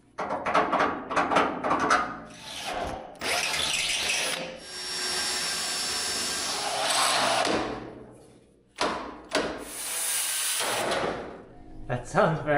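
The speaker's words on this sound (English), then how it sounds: "When you drill a hole like that" A power drill bores a hole through a metal tube, grinding loudly in long sustained bursts with brief pauses between them, close up and with a few short clatters of tool handling.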